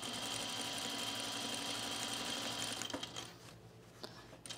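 A sewing machine runs steadily, stitching in the ditch to secure the binding edge on a men's tropical shirt with a size 14 needle, a close continuous whirring hum that stops near the end, followed by a few light clicks.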